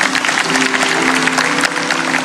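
Church congregation clapping during a sermon, a loud, dense burst of applause filling the whole short moment with no voices over it.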